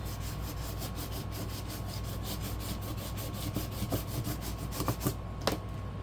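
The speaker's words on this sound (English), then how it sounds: "Okay, pull, burnish it," A hand tool rubs and burnishes paper down on a craft surface in a run of quick, even back-and-forth strokes, close and fairly quiet, ending in a few sharper scrapes.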